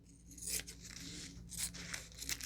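Scissors snip and slice through plastic sheet in a few quiet, crinkly cuts, close by and faint, with no one talking.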